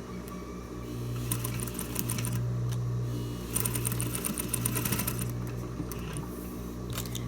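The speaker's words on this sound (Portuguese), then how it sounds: "eu vou passar uma costurinha aqui em cima também pra costurar ela dobrada" A sewing machine runs up close, stitching across folded fabric on a cloth face mask in two steady bursts of rapid, even needle clatter with a brief pause between them.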